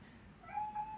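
A cat named Kingston gives one short, faint meow in the background, rising briefly from a quiet room.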